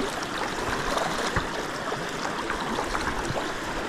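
Water current running steadily through a canal of cold, murky water with slippery stones, a continuous broadband rush and gurgle close by with no voices.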